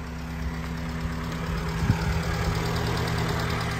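Fiat Uno engine idling at low, steady revs, with a continuous hum and faint ticking and knocking, radiator fan running, moderately close and alone without talk.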